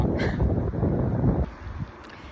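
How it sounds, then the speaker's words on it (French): Wind buffeting an outdoor microphone, a broad rumbling roar that fills the first second and a half, then drops away to a quieter low hum where a car may be passing. "il y a une voiture et il y a du vent"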